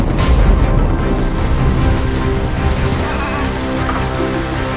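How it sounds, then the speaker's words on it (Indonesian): Heavy rain pours down without letup on a mountain village route where potatoes are carried by motorbike, a loud, dense, close hiss of drops striking surfaces with no one speaking. "Ditambah lagi ini sedang hujan besar gitu ya"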